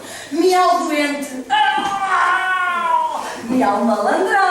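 A person's voice imitates a sick cat, drawing out several whiny, wavering meows close and loud, with the pitch sliding in long continuous phrases.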